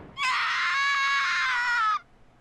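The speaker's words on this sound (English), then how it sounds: "A scream? That voice just now." A loud, high-pitched scream from a character in the video game Danganronpa 2: one sustained shriek lasting about two seconds, heard alone with no talking over it.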